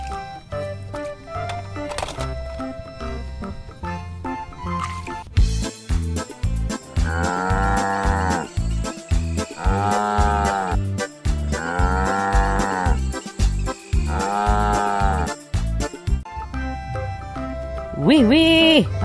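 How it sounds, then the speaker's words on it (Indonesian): A blue-painted breeding cow moos loudly several times in a row, long drawn-out calls close by, over background music with a steady beat. "ini sapi biru, indukan"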